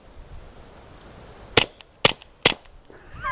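Three sharp, quiet reports from a suppressed GSG Firefly .22 pistol firing subsonic from its short barrel, evenly spaced about half a second apart, each a crisp snap with little echo.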